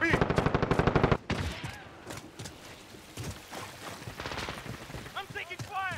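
Rapid automatic gunfire in Call of Duty Modern Warfare multiplayer, a fast burst of loud close shots followed by scattered shots and battle noise, with some in-game voice chatter.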